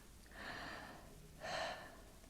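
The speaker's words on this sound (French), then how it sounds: "Respirez un petit peu avec la bouche maintenant." Two slow, breathy exhalations through the mouth, soft and close, separated by a brief pause.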